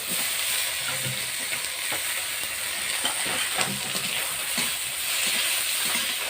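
Browned onions fry in hot oil in a pan as grated ginger, garlic and chopped tomato go in, giving a steady sizzle with bursts of crackling, stirring scrapes and soft clinks, close and without talk.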